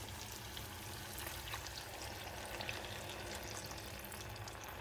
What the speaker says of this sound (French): Et vous laissez mijoter entre 30 minutes et 35 minutes.